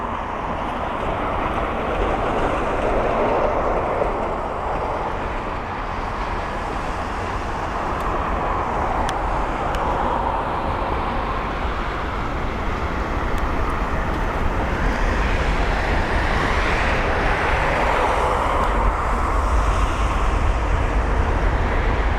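Royal Air Maroc Boeing 737 MAX 8, arriving from Casablanca, on approach to land at London Heathrow, a steady broad roar of jet engines that holds loud and continuous throughout, swelling slightly toward the end, with no voices.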